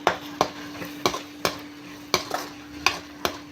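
A spoon stirs cumin and garam masala powders into a curry in a pan. Sharp, regular clacks against the metal come roughly every half second over a low sizzle, close and distinct with no talking.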